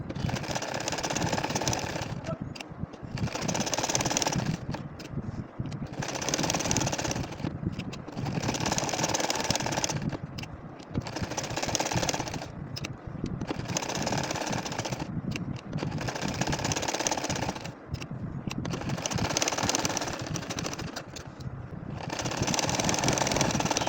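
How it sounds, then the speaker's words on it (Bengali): Sewing machine stitching curved lines on a nakshi kantha quilt, running in a rapid mechanical whir in repeated bursts of a few seconds each, separated by brief pauses, loud and close with no talking. "এই খোপটার মধ্যেও কিন্তু আমি বাঁকা করে করে সেলাই করে নিব"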